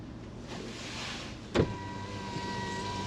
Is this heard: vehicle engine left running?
yes